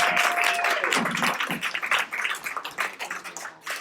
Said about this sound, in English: Clap it up for Les.